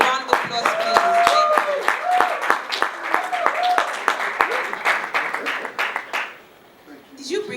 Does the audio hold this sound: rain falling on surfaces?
no